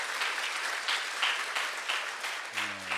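A church congregation applauds Pastor Kim after his praise songs, a steady wash of clapping at moderate distance that holds for a few seconds, with a faint voice entering near the end.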